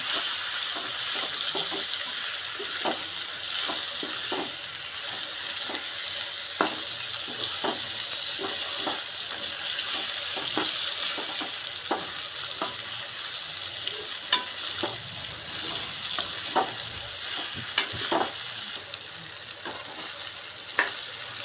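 Pointed gourd (parval) pieces fry in oil in a pan with a steady, bright sizzle, while a spoon stirs and scrapes in regular clicks and taps throughout, close and alone.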